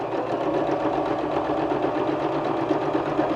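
A sewing machine stitches fabric for a face mask in a fast, even, continuous whir, loud and close, running without pause and with no talking.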